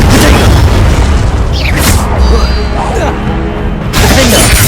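A Confringo explosive spell cast during Hogwarts Legacy combat bursts with loud booms and shattering cracks, with more spell impacts and shouted voices packed closely around it.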